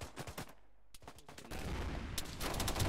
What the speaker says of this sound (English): Delta, commence suppression fire to the right of smoke